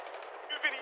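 Rapid gunfire rattles through a video game shootout, a dense, steady burst of shots that runs the whole moment and swells briefly near the end.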